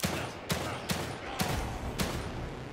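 Gunfire in The Evil Within 2, five sharp shots spaced roughly half a second apart over a dense, noisy background, near and loud, with no voices.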